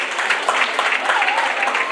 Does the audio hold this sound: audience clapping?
yes